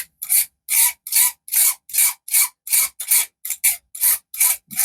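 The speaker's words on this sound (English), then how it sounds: "So just a light scraping. Again, like I say, using the flat edge of the blade." A flat knife edge scrapes paint off a porcupine quill in about a dozen close, even strokes, each a short dry rasp separated by brief silences.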